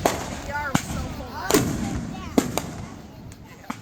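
Fireworks bursting near a church, several sharp cracks and pops at irregular intervals over a hiss and whistling trails, with faint voices in the background.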